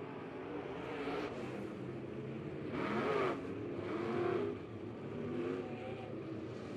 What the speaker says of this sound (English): B mods coming out onto the track.